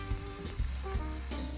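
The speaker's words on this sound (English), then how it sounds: "I'm putting it in this skillet, and I'm gonna fry it until it gets done, but not too crispy" Bacon frying in a skillet gives a steady, fairly faint sizzle with a soft background hiss and a few gentle bubbling bursts.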